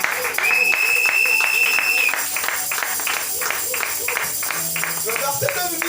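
A church congregation claps steadily in rhythm to acclaim the Lord, a dense run of hand claps with voices singing and calling out over it.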